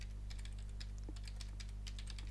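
Rapid typing on a computer keyboard, with irregular bursts of clicky keystrokes over a steady low electrical hum, close and fairly quiet, with no talking.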